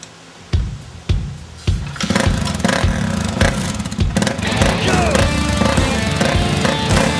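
A motorbike starts up with a few sharp bursts, then its engine settles into a steady, loud running roar with clattering as it rides off on an outback trip to Birdsville.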